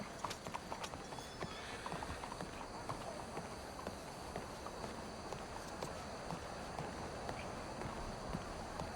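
Horse hooves clip-clop steadily at a walking pace in Red Dead Redemption 2, quiet and even under faint ambient background, with no voices.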